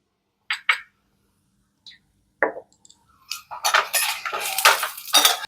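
A spoon stirs salt into a pot of dal, giving sparse metallic clinks and scrapes at first and then a busier run of clattering strokes, close, with no talk.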